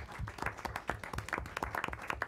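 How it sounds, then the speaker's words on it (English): Applause and clapping at a board of education meeting, a steady patter of many hands with dense, irregular claps sustained throughout, moderately loud and without talk. "let's give a round of applause to Saida Joffrey and Ricardo Carlos also."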